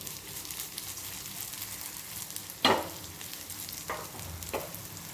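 Batter being turned and flipped with a few short scraping clicks in a hot ghee-greased appe pan, over a steady soft sizzle close by.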